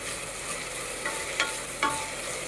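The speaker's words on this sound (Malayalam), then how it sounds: "തീ മീഡിയം ഫ്ലെയിമിൽ വച്ചിട്ട് തുടർച്ചയായി ഇളക്കുക." Sliced onions frying in a pan over a medium flame, stirred continuously for a green peas curry, give a steady close sizzle with a few soft scraping strokes of the spoon, no voices.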